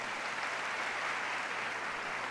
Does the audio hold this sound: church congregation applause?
yes